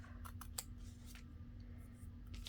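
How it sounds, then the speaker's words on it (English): Scissors snip off a piece during a paper craft project, giving a few faint, crisp cuts over a quiet background hum. "so we'll just cut that off"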